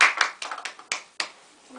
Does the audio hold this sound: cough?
no